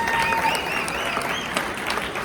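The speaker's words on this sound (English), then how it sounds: "Let's give our friends in the press a round of applause." Steady audience applause for the press at a large bipartisan political event, a full room clapping continuously with faint voices mixed in.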